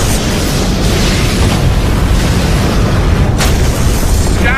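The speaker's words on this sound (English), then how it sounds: "Massive secondary explosions." A massive sci-fi space battle explosion roars in a loud, sustained, rumbling wall of noise with deep low-end boom, crackling debris and a brief sharper burst near the end.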